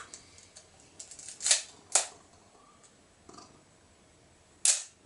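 A Praktica film camera shutter fires several times, each a sharp mechanical clack, spaced irregularly with quiet handling noise between them.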